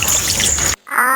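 Water splashing and pouring during washing, a loud, close, continuous rush that cuts out briefly and then resumes with a quieter trickle.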